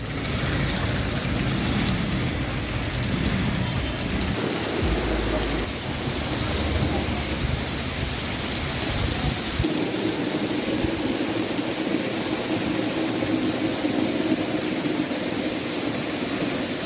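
Steady rain falls in Mangrol, Junagadh, producing a continuous, even wash of broadband hiss throughout, with no talk.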